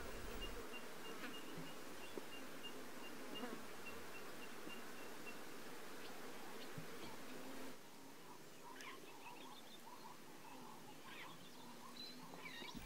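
Flies swarm around a carcass in the savanna, a dense, continuous buzzing that carries loud at first, then drops a little and mixes with scattered chirps from other small creatures.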